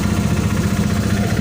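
A motorbike engine idles steadily nearby beside a park gate, giving a continuous low rumble with no talking over it.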